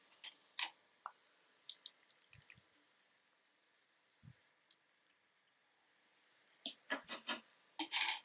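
Masala paste being stirred into chicken for a Kashmiri chicken curry: soft, wet squelches and scraping clicks of a spoon in the pan, scattered and quiet, with a denser run of stirring near the end.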